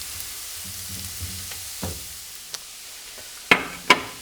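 Rice stirred in hot oil with garlic for Hainanese chicken rice, a soft steady sizzle with low scraping stirs and two sharp knocks of a utensil near the end, no voices.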